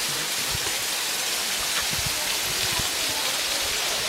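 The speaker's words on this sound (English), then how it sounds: "Trying to go under the waterfall." Waterfall at the Grand Canyon with water pouring steadily as a dense, continuous broadband rush, close and constant, with scattered low thumps like footsteps on rock nearby.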